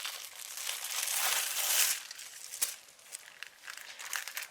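Thin, paper-thin lumpia wrappers being peeled off their paper backing give a soft crinkling and rustling, loudest in the first two seconds and then trailing into lighter, scattered crackles, close up with no talk.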